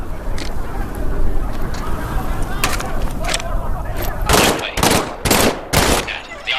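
An M1A1 submachine gun firing in the World War II virtual-reality game Medal of Honor: a rough ambient bed with a voice, then several sharp, loud shots in quick succession near the end.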